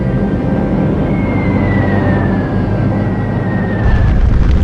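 Heavy propeller drone of a large formation of American warplanes bombing Berlin in 1945, a loud continuous low rumble with a slowly falling engine whine running steadily throughout.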